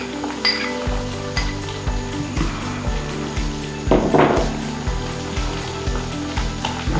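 Garlic and ginger fry lightly in a pan with onions that have just begun to brown, for a chicken and mash daal. A steady close sizzle runs throughout, broken by repeated metallic spoon clinks against the pan.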